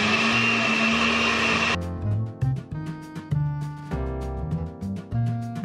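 Blender whirring as it mixes three whole eggs, condensed milk and milk for a carrot pudding cake, a loud steady motor whine that cuts out, then restarts in choppy pulsing bursts with strong low churning.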